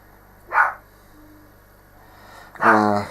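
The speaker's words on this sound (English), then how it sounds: "Dogs are on one today, I'm afraid." Dogs bark nearby indoors: two separate barks, a short sharp one early and a louder, fuller one near the end, with quiet room hum between.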